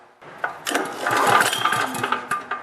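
Generator engine with no spark turned over by hand with its recoil starter, giving a few quick whirring, rattling pulls up close without firing.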